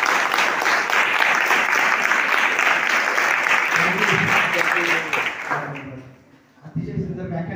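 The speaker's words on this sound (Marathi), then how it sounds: "वाजवा एका जोरात टाळ्या." A large audience bursts into loud, sustained applause at a lecture event, the dense clapping holding steady for several seconds before tapering off as a voice starts speaking over the fading claps.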